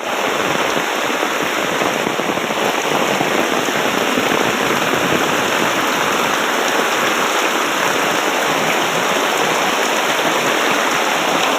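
A steady, loud wash of moving water fills the whole stretch, as someone wades through knee-deep flood water on a street during heavy morning rain, with no talk over it.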